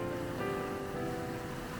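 Sea waves wash against the Mediterranean shore of southern France, somewhere between Marseille and Nice, a soft, continuous surf hiss under a warm summer sky.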